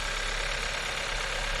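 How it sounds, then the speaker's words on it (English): A 2021 Kia K5 engine idles steadily and close by, a continuous rumbling hum with a faint knocking texture and no pauses. "I don't know how well you can hear me over the engine"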